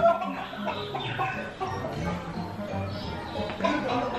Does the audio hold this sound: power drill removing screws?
no